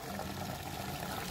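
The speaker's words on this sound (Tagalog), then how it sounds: "At tayo nag-iigib na ng tubig." Water is fetched and poured at a campsite near Long Sault, Canada, a faint, steady trickling and splashing that continues evenly throughout, quiet and without talk.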